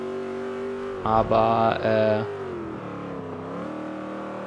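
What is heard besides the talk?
muscle car engine revving in video game Forza Motorsport 5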